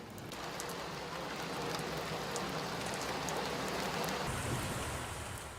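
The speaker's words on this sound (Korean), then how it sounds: "제주 공항에는 예고에 없던 빗줄기가 쏟아지기" Rain shower at Jeju airport, a steady dense hiss of rainfall on surfaces, loud and continuous throughout with no voices.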